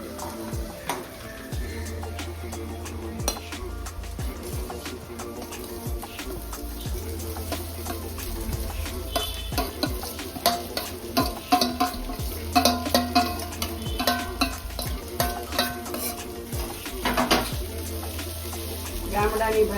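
Fresh corn kernels and chilies frying in hot oil in a pan, a steady sizzle with frequent clinks and scrapes of stirring, and a background hum running throughout.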